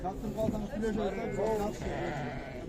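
Sheep bleat repeatedly in wavering cries at the Sokuluk livestock market while people talk nearby over a busy background murmur.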